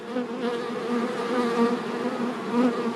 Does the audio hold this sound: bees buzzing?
yes